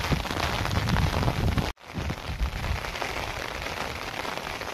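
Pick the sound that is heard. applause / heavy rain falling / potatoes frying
heavy rain falling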